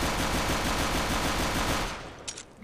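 Rapid pistol fire in the shooter game CS:GO, a steady rattle of fast shots, loud and close, that stops and leaves a few faint clinks and mechanical clicks.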